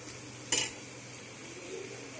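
Chopped carrot and capsicum frying in a pan for shahi paneer, a soft continuous sizzle with one sharp utensil clink against the pan early on, then quiet stirring.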